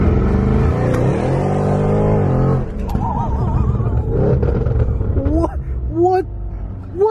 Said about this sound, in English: What kind of acceleration is that?